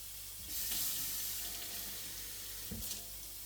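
Water pours briefly into a hot pan of cubed steak, hissing and sizzling for a couple of seconds, close by, with a small clatter near the end.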